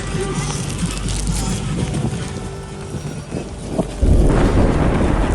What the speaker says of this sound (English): Ooh, that's thunder for sure.